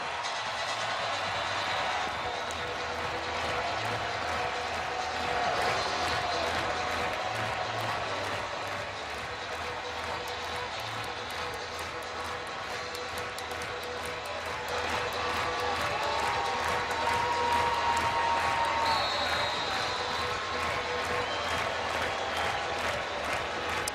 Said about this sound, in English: Good crowd, loud crowd, lots of enthusiasm.